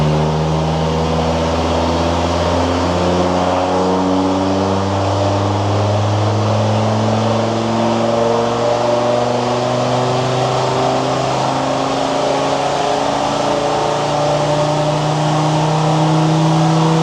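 A Land Rover Defender Td5 diesel with a stage 2 remap revs hard on a dyno, loud and steady with rising engine harmonics that climb through the gears over about seventeen seconds, droning without pause and with no talk over it.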